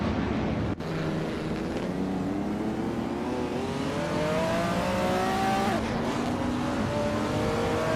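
Vintage 1952 Kuzma Afi race car in a racing video game, its engine droning steadily and rising in pitch through the gears, with a brief dropout near the start and a shift around the sixth second; no one speaks.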